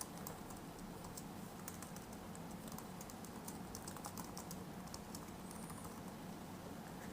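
Quiet, steady typing on a computer keyboard, a continuous patter of light key clicks with no speech.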